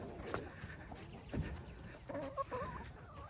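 Hens clucking close to their coop, a few soft near clucks and brief calls scattered over quiet outdoor background.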